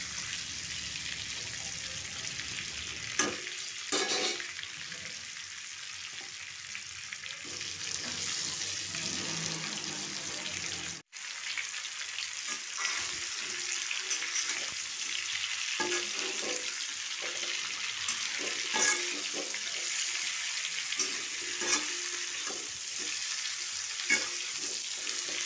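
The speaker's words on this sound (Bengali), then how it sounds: "এভাবে আমি ঢাকা দিয়ে দিয়ে ফুলকপিগুলো ভেজে নেব" Cauliflower florets sizzle steadily in oil in a covered pan, a continuous bright hiss with occasional clinks and stirring, no talk.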